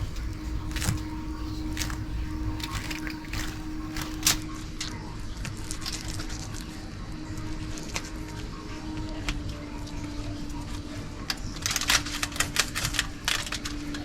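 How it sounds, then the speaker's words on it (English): A knife cutting through the bones of a speckled trout while filleting, giving a steady stream of small, close clicks and crunchy ticks over faint background noise, with no talk. "So when you're cutting, you can hear the bones."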